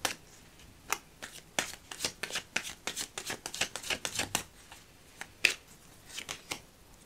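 Tarot cards are shuffled and drawn for a clarifier, a quick run of crisp, close riffling snaps and flutters in uneven bursts, faint background otherwise and no talk.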